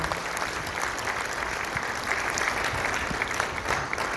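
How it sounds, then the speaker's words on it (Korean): Applause from a church gathering welcoming a standing guest, steady, full clapping from a sizable crowd filling the whole clip at a close, even level. "우리 박수로 한번 환영하겠습니다"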